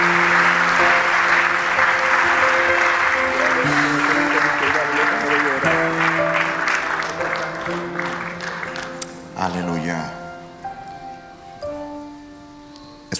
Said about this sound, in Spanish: Tributa el aplauso a Jesús.